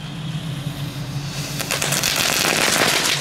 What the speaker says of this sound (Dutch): Dan steken we gewoon ons vuurwerk via het andere vuurwerk aan.